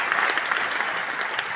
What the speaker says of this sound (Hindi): तो प्लीज एक बार इनके लिए जोरदार तालियां।